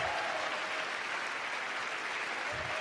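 An indoor audience at an Ignite Seattle event applauds the event organizers with steady, dense clapping that carries through the whole stretch.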